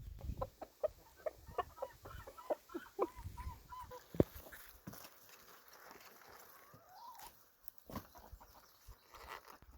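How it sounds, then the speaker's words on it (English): Chickens at a backyard coop, repeated loud squawks and clucks in uneven bursts close by, with honking calls among them and some shuffling in between. "And off we go to the chickens."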